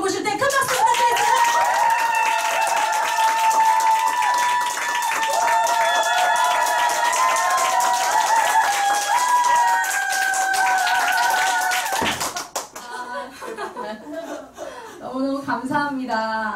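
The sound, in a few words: audience applause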